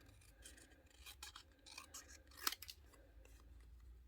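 Scissors trim card paper at a slight angle while making a hidden vase greeting card, a run of quiet close snips with one sharper cut partway through.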